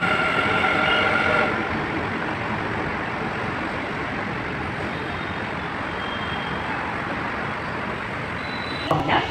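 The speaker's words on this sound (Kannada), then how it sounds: "ಸೊ ಈಗ ಮಾಧವರ ಕಡೆ ಹೋಗುವಂಥ ಮೆಟ್ರೋ ಬಂತೀಗ" A Bangalore metro train at the station platform gives a steady broadband rumble and hiss of its motors, loudest at first then settling, with a faint beep and chime near the end.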